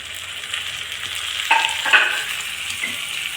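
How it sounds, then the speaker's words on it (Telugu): Dried fish and two tomatoes are stirred together in a pan for a village-style curry. A soft, low sizzle carries a few sharper scraping strokes near the middle. "ఇవన్నీ ఒకసారి కలుపుకుందామండి."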